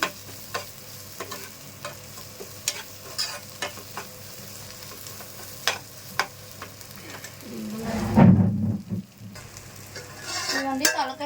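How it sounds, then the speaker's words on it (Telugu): A spoon stirs mutton head curry boiling in a pan, with steady bubbling and sizzling and repeated scraping strokes against the metal. A louder burst of stirring and bubbling comes near the end. "కూర పొంగొచ్చింది కలుపుకుంటూ మళ్ళీ ఒక్క సిమ్లో పెట్టుకోవాలి"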